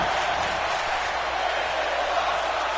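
Loud, steady roar of a wrestling crowd cheering through a battle royal match between MVWF and NJPW wrestlers, a dense continuous wash of noise with no breaks.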